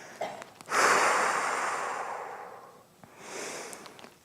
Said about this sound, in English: It helps to start by exhaling, a really deep exhale.